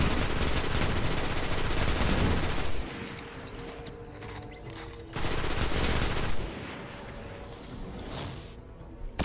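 Rapid automatic gunfire in the sci-fi shooter game Destiny on a Venus patrol, loud sustained bursts of several seconds, breaking off briefly before a second heavy volley, with lighter mechanical clatter in the gaps.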